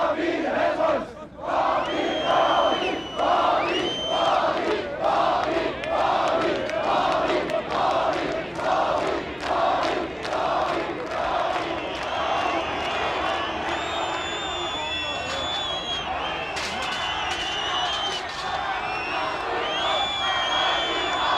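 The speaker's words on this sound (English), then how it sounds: "Meanwhile, a hostile crowd was gathering outside." A large hostile crowd gathers outside in East Germany in 1989, chanting and shouting in a steady rhythmic surge that stays loud and dense throughout, with occasional whistles and higher cries rising above the roar.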